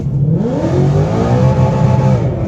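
A Whipple-supercharged 2018 Mustang GT pulls hard at full throttle from a roll, its engine note climbing steadily and loud and close, with the automatic left to shift on its own.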